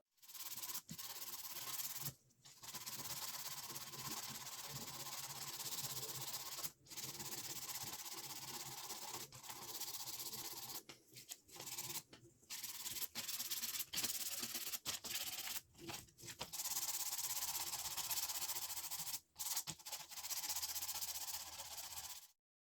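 Frets on a Breedlove Wildwood Concerto CE acoustic guitar are sanded with fine grit paper up to 2000, a close, steady scratchy rubbing that runs almost continuously with a few brief pauses.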